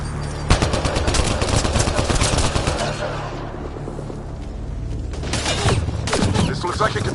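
Enemy gunfire in the sci-fi shooter Mass Effect Andromeda, played on PS5: dense rapid automatic bursts crackle continuously at close range, with a brief lull midway before the shooting picks back up, mixed with game effects and faint voices.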